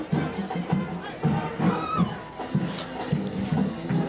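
A high school football crowd murmurs and shuffles in the stands during the final seconds of a 1997 game, with a marching band's steady beat pulsing underneath and scattered voices rising now and then.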